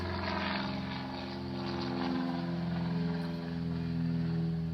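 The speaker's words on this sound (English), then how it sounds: "it's great to hear and see airplanes flying on this afternoon" A light propeller aircraft doing touch-and-goes at the Nenana airfield in Alaska on a warm afternoon, a steady engine drone that swells and fades slightly as it passes overhead, heard with no talking.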